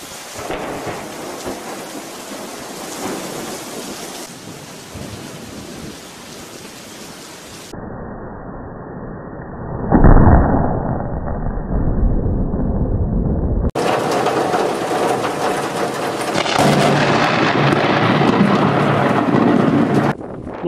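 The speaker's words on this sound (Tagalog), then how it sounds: "Thunder, lightning just doesn't want to cease." Thunder and heavy rain during a lightning storm, a loud continuous downpour broken by a deep rumbling thunder roll midway, with the rain hiss persisting throughout.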